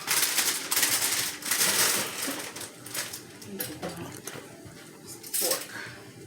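Spinach being packed into a metal pot for a spinach dip, with irregular clanks, scrapes and rustles of utensils against the pot, close and fairly loud, with brief talk in between.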